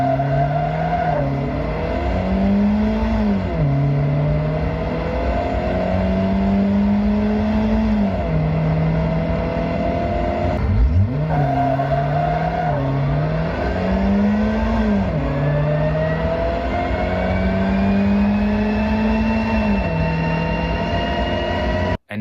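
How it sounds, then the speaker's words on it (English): Race car fitted with a racing transmission in the original Forza Motorsport game, its engine droning loud and continuous with a supercharger-like whine, rising and falling through repeated revs and gear changes. "cars with a racing transmission sounds like they got a supercharger in it"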